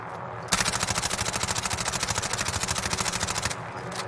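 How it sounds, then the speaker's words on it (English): Sustained rapid automatic fire from an MP5 submachine gun in a shooter video game, one continuous three-second burst of evenly spaced shots, loud and close, with no talking. "let's start shooting with the MP5"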